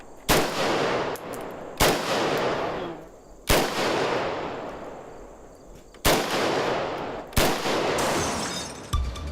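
An AK-47 assault rifle fired as single shots, five loud sharp cracks spaced one to two seconds apart, each followed by a long echoing decay outdoors.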